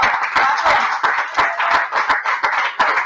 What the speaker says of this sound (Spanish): La señorita Norma Dubai quería pedir aquí en el escenario para ella un enorme aplauso para empezar.